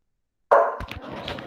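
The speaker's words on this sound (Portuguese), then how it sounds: "o cachorro está agitado hoje" A dog gives one loud, close bark that starts abruptly after silence, followed by a few quieter knocks and thumps.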